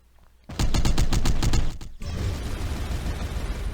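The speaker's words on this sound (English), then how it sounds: "let's just go ahead and fire with these." Spaceship weapons fire in the space combat game Into the Void, a rapid volley of loud, evenly spaced mechanical shots followed by a dense rumbling barrage with impact noise.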